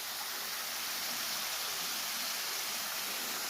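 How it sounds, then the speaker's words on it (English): Mize Mill Falls in the Sipsey Wilderness of Bankhead National Forest pours in a steady, dense broadband rush, a continuous even roar heard from close by without a break. "you're going to be able to hear the waterfall as soon as you step into the woods."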